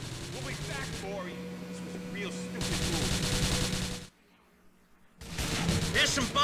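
Explosive shotgun blasts and chaotic gunfire in the game GTA: The Ballad of Gay Tony, loud bursts of fire that cut out into near silence and then resume over a steady hum and game noise.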